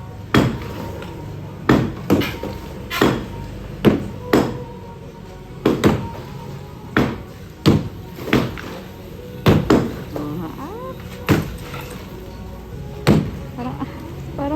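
Sharp, loud hammer blows during demolition strike at irregular intervals against a hard surface, with a voice speaking faintly in the background between hits.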